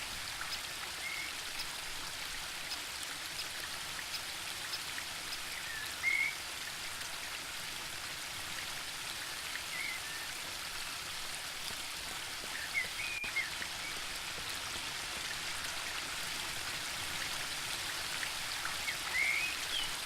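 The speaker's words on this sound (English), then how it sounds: "The spring brook emerges up there." A small spring brook high in a mountain landscape in the game Book of Unwritten Tales 2 runs steadily, a continuous soft rushing and trickling of water with faint bird chirps here and there.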